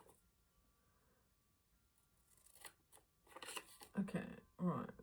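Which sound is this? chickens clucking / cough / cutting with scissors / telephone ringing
cutting with scissors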